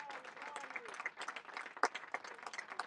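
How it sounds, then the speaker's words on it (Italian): Cus Palermo supporters applauding their under-17 football team at the end of a match, scattered clapping and crowd noise heard from a distance, fairly faint, with a voice talking over it. "Gli applausi dei sostenitori del Cus Palermo a questa squadra che termina così la propria stagione"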